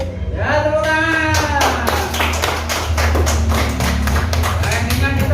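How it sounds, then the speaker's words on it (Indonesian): A group claps in a steady, fairly quick rhythm during an Indonesian teacher-training class session, sharp repeated hand strikes sounding over a sustained low hum and overlapping voices for several seconds. "Ya, tepuk tangan."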